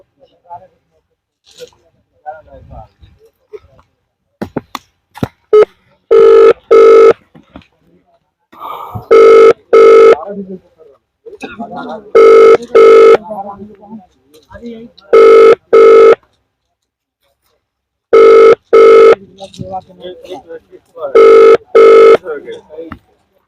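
An outgoing phone call rings unanswered: the ringback tone sounds loudly as double bursts at regular intervals, about five times, while someone talks in the pauses between them.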